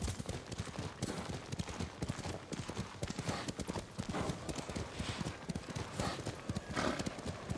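Horse hooves in Ghost of Tsushima as a rider gallops along a beach: a steady, rapid clip-clop rhythm that runs the whole way through, fairly close and even, over soft ambient background.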